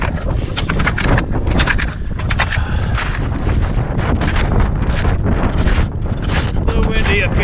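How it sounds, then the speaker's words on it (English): Steady wind buffeting a microphone outdoors, a continuous loud rumbling roar with gusty surges throughout. "A little windy up here."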